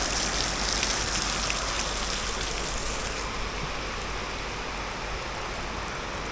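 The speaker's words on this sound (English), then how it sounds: "Pretty heavy storm right now. I was just standing out in the rain." Heavy rain pours on an outdoor construction site during a storm, a loud, dense, unbroken hiss of drops hitting the ground and surfaces, steady from start to finish with no voices.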